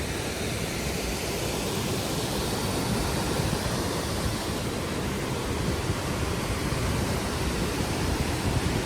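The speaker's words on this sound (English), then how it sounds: "Copper Creek Falls." Copper Creek Falls, the waterfall at Disney's Wilderness Lodge, roars as steady broadband rushing water, loud and close, unbroken for the whole stretch with no voices over it.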